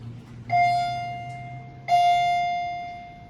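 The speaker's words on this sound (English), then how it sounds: "Let's get the chime one more time." A Scenic Lift Products hydraulic elevator in a Denver building sounds its arrival chime twice, two clear ringing tones about a second and a half apart, each decaying slowly over a low background hum.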